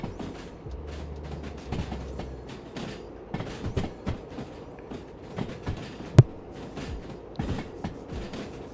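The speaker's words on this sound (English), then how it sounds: "this is a rather long train" A long freight train of empty shipping containers rolls along in the Derail Valley railway simulator, a steady low rumble with scattered creaks, clicks and clanks of the wagons and one sharp metallic knock, with no talking.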